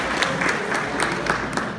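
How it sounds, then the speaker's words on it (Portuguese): Church congregation applauding during a Sunday service, a steady wash of many hands clapping at moderate distance, fairly even throughout with a few sharper claps standing out. "Salve de palmas para esse irmão"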